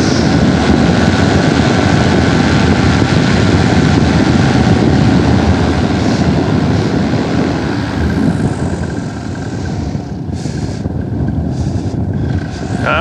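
A small plane's propeller engine droning loudly and steadily as it descends to land near a mountain peak, with heavy wind rush on the microphone and the engine note easing slightly toward the end.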